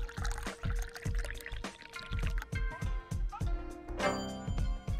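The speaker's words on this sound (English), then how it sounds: "Have you perhaps poured green tea before?" Green tea is poured in the video game Dave the Diver, a liquid stream with a game soundtrack of plucked, percussive notes over it and a rising chime near the end.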